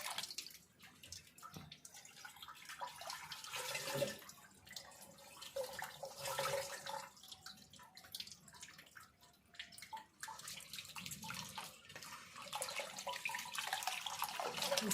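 Soaked moong dal washed by hand in water, with irregular splashing, swishing and dripping as the skins are rubbed off, close and fairly quiet with no talking.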